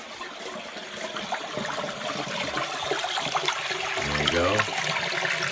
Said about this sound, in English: This is the sump pump going.